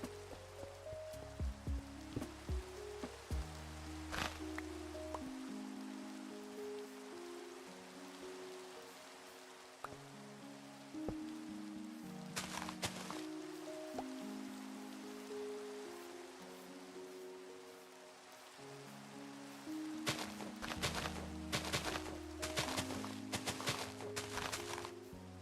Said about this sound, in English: I enjoy the sound of the rain in this game.